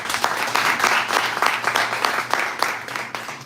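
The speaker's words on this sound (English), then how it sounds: "So give this organization a round of applause if you don't mind." An audience at an Atlanta business chamber event gives a steady round of applause, a dense wash of many hands clapping together for a few seconds with little talk over it.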